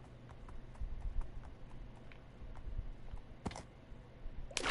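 Steady clip-clop of horse hooves in Minecraft walking at an even rhythm, fairly close, with a couple of brief sharp clatters near the end.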